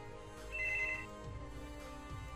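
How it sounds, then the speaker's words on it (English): A telephone rings with a short electronic trill in one brief burst, faint behind a steady low background hum. "sorry about that, I had a phone call"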